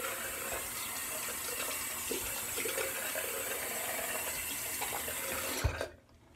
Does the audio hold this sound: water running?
yes